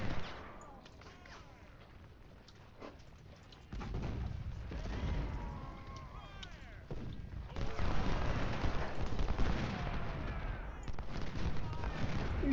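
Cannon and musket fire in a Civil War battle at Gaines' Mill in the strategy game Ultimate General: Civil War, a dense, continuous rumble of booms and crackling volleys that grows louder midway and stays heavy to the end.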